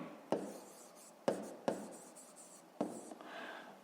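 Pen strokes scratch across paper while a maths expression, a minus b, is written out for a fifth-grade exercise: four sharp taps as the pen touches down, each trailing into a soft close rasp, with no voices.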